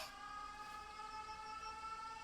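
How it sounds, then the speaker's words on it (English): Sirens wail in the video game 13 Sentinels: Aegis Rim during an air raid alert. The tones are steady and layered and are heard faintly and at a distance over a low background hum. "The sirens."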